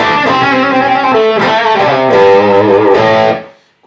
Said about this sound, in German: wenn ich jetzt hier im ersten verzerrten Kanal, sagen wir mal, bis 14 Uhr gehe, dann hat man ein richtiges Rock'n'Roll-Brett.